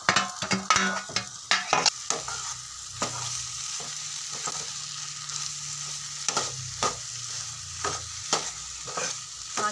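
Samosa filling with tomatoes and green coriander frying in a pan, with soft continuous sizzling broken by repeated spoon stirring and scraping knocks, close and fairly quiet, with no talk.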